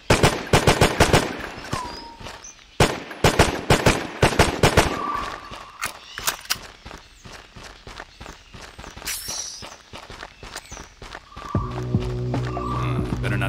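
Rapid bursts of automatic gunfire and single shots crackle in the PC shooter Terrorist Takedown: War in Colombia. Dense volleys come in waves and thin out toward the end, where a low droning tone takes over.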